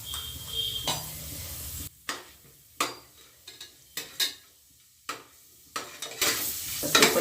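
Mustard seeds, cumin and chana dal fry in hot oil for tamarind pongal, with a sizzle under repeated clinks and scrapes of a spoon stirring in the pan.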